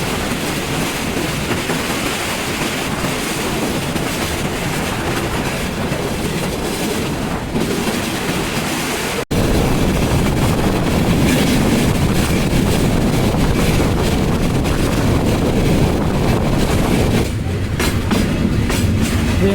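Parabat Express on the Dhaka to Sreemangal line rolling along toward Noapara station, a loud continuous roar of wheels and rushing wind with rhythmic rail clatter throughout.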